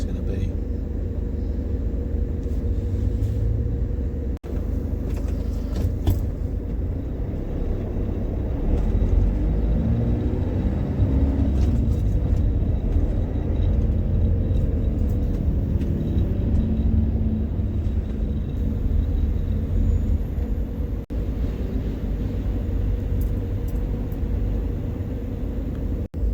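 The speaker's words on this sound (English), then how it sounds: "first traffic jam of the trip" Cars idle and creep along in a traffic jam in Friedberg, Germany, giving a steady low rumble of engines throughout, heard from inside a vehicle with no talk.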